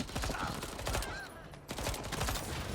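Rapid gunfire in the Deathloop video game strikes fireworks, a dense burst of repeated sharp shots with a short pause in the middle, then more shots, loud and close.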